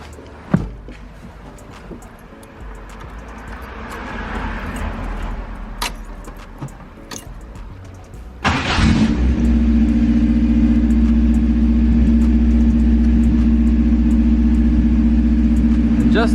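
Keys jingle and faint handling noises come first, then an engine-swapped Toyota AE86 Corolla cranks and fires, settling into a loud, steady running drone that continues to the end.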